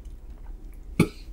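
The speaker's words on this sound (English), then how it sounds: "I was trying not to cough, but it couldn't help it" A single sharp cough, close by, standing out briefly against a quiet low hum.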